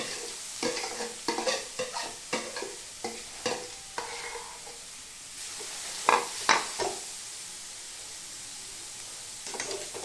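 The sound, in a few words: grated carrots frying in ghee in a wok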